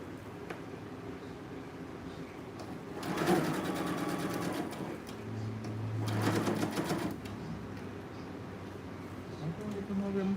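Sewing machine running a stay stitch along a dress, in two short bursts of rapid stitching a few seconds apart, moderately loud over a quiet room with low background hum.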